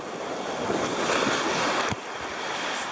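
Ocean waves wash in the sea off California in winter, a broad rushing surf mixed with gusty wind buffeting the microphone, fairly close, with one brief sharp swell near the end and no talking.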